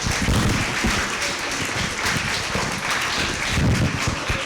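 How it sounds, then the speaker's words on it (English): An Asian peace conference audience gives applause after a speaker's talk, a steady, moderately loud patter of many hands with a muffled, rumbly low end. "Can we give a warm applause?"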